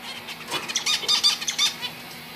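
A pair of caged finches make a brief burst of soft fluttering and light high chirps, close and fairly clear, lasting only a couple of seconds over a quiet background hum.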